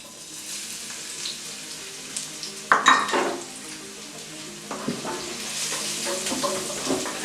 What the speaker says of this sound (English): We're going to saute the garlic.